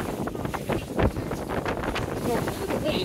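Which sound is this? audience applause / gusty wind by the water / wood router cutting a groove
gusty wind by the water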